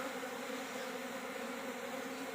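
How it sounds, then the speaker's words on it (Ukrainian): Honeybee drones on their orientation flight make a dense, steady buzzing hum that holds evenly at close range without a break. "А тут вже другий день поспіль доволі активно трутінь облітується."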